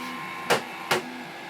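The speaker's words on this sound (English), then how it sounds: "printer sounding weird" A printer gives two short, sharp knocks about half a second apart over a steady mechanical hum, sounding faulty.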